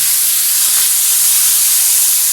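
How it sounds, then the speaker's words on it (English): Water sprinkled over a lamb chop frying in a pan sets off a loud, steady steam hiss that runs close and continuous for a couple of seconds. "Sprinkle it to ensure that it will be cooked using the steaming method as well"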